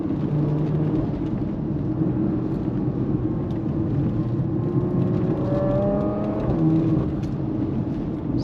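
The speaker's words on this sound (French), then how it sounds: "On entend le son du turbo, juste magnifique." Porsche Macan Turbo with a 400-horsepower turbocharged engine and PDK gearbox accelerating hard: a loud, continuous engine roar and whir with rising tones and quick gear changes.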